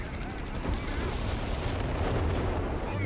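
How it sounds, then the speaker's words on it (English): Shell impacts and artillery-style blasts from a Brummbär assault gun in the Company of Heroes 3 strategy game, a dense, continuous rumble of explosions and gunfire mixed under steady battle noise. "Monster hit from the Brumbier with that extra range"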